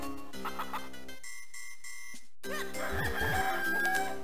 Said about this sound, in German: Da unten ist das Huhn